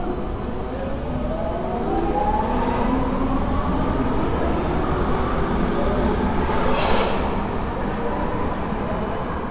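A Nuremberg DT1 subway train departs, a loud rumbling roar with a rising electric motor whine as it gathers speed, and a brief squeal partway through.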